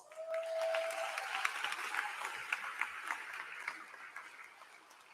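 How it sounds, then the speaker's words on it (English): Audience applause at a community college commencement ceremony, a steady wash of many hands clapping at moderate level that swells early and then holds through to the end, with a faint tone briefly audible at the start. "give yourselves a round of applause"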